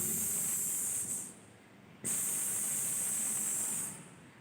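A voice imitates the letter S with long, loud, steady hisses, two sustained breaths separated by a short pause, close to the listener.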